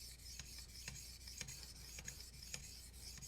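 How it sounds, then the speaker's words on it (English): Knife blade getting light polishing passes on a sharpening system, a steady soft rasping rub with repeated brief strokes, close and fairly quiet. "we're just going to give this a few polishing passes to weaken that burr if it's not snapped already"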